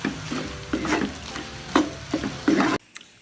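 Igado, Ilocano style, stirred in a frying pan: repeated close scraping strokes of a spatula over a steady sizzle, several stirs in quick succession, then it cuts off abruptly into near silence.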